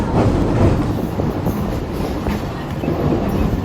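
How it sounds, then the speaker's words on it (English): An old historic train in Victoria, Australia rumbles steadily along the rails, a continuous low clatter with faint rhythmic wheel knocks, close and fairly loud throughout. "Beautiful little old train"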